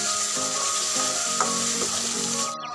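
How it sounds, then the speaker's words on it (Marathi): A masala of onion, garlic and coriander fries in oil in a pan over lowered heat, sizzling continuously up close with a few soft stirring clicks before it drops off at the end. "त्याच्यानंतर त्याच्यात मसाला टाकून घेऊया."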